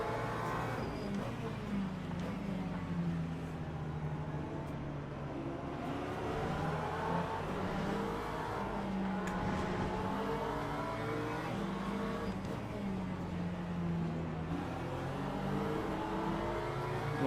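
Race car engines rev and accelerate together at a race start in Le Mans Ultimate, a steady loud drone of multiple motors with rising harmonics throughout, no talking.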